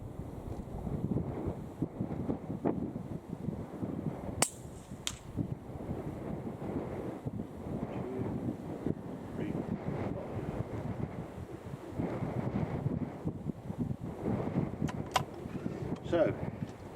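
Wind blows steadily across an outdoor rifle range, a constant low rumble of microphone buffeting with a few faint sharp clicks and knocks scattered through it.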